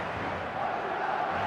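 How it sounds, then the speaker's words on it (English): In a football video game, a stadium crowd gives off a steady, dense roar of many voices, a brief continuous wash of noise without distinct cheers. "The crowd are reacting to that now."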